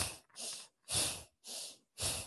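Rapid, forceful Bhastrika bellows breathing in a yoga session, five strong rhythmic bursts of air roughly half a second apart, each a loud close hissing puff separated by brief silences.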